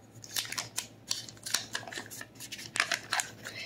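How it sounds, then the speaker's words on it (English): A blending fork cuts a stick of room-temperature butter into a cup of all-purpose flour, giving a close, steady series of soft scraping and clicking strokes in an uneven rhythm. "I'm gonna use this blending fork and cut this butter into my flour."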